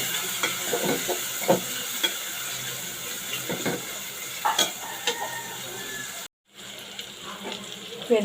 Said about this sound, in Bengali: পেঁয়াজের সাথে চিংড়ি মাছটা হালকা আমি ভেজে নিয়েছি